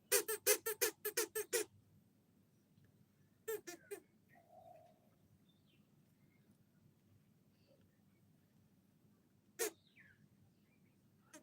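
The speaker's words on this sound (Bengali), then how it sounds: "কেমন ডাকে টিয়া পাখিটা" Bursts of sharp, shrill squawks from a nearby parrot, a rapid series first, then a few more calls later, with quiet pauses between.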